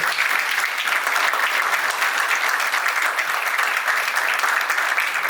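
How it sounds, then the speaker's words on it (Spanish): An audience at a book presentation in Pichilemu applauds steadily for about five seconds, a dense, even wash of clapping from many hands in a hall, with no voices over it. "Démosle por favor un gran aplauso a don Antonio"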